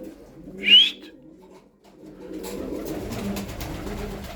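One pigeon gives a single clear call close by. A low, soft cooing and rustling from the flock follows after a short pause.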